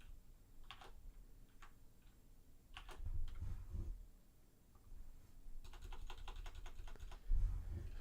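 Keys on a computer keyboard tapped while writing a SQL query, sparse clicks early on, then a faster run of keystrokes near the end, fairly quiet over a low background hum.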